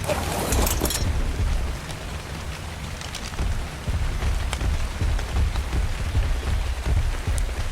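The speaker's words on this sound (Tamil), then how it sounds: "நம்ம ஜேர்னியை ஸ்டார்ட் பண்ண நேரம் மழை அடிச்சு பொழகுது கைஸ்" Steady rain falling across an outdoor landscape in the survival game Ark Survival, a continuous wash of drops with a brief brighter spatter at the start and a low rumble beneath, no voices.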